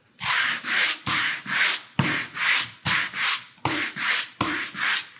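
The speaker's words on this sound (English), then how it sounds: "Let's get to sanding." A painted wooden sign is hand sanded with steady back-and-forth strokes, about a dozen rhythmic rasping passes, close and loud with no speech.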